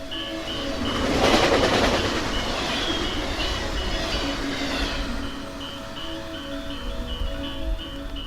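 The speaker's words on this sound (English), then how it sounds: "a train leaves the station, and I stand by the tracks" A train rolls out of a station in Winnemucca, Nevada, its engine humming with tonal whines over clattering wheels that swell early, then settle into a steady rumble as it moves off.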